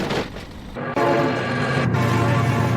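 A loud, sustained train horn blares close by in a truck-versus-train video game, over the rumble of the moving train. No one speaks.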